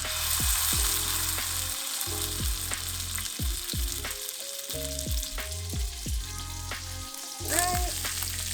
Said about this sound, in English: Now we're gonna take it, put it to fry for about 2 minutes on each side.